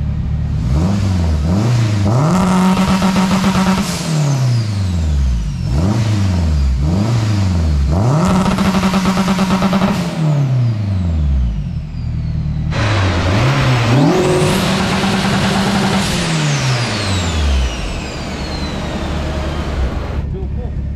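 A turbocharged K24 engine in a Honda EK hatchback revs hard on a dyno in repeated cycles, climbing in pitch then dropping off, loud and close, with faint voices underneath.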